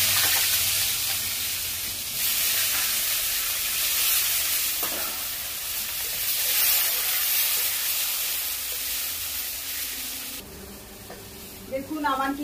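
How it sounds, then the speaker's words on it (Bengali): Potatoes fry in hot oil with a loud, continuous sizzle and hiss, and occasional stirring breaks through the steady frying noise. "এবার আলুগুলোকে ভেজে নিচ্ছি"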